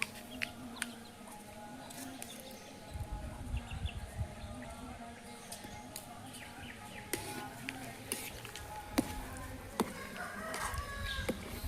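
Chickens cluck and a rooster crows intermittently in an outdoor setting during large-scale rice cooking for a charity meal, mixed with background voices and ambient farmyard noise.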